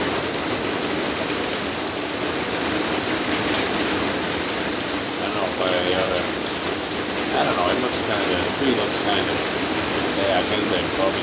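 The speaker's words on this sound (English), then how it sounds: "See how long the rain takes." Steady, heavy rain pours down continuously in Sun City, Arizona, a dense broadband hiss, close and even, with faint indistinct voices underneath at times.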